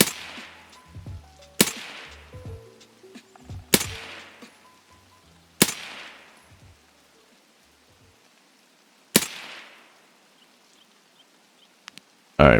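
Gunfire in the video game Escape from Tarkov PvE: five sharp, loud single shots at irregular intervals, each with a ringing decay, separated by near silence and faint background clatter.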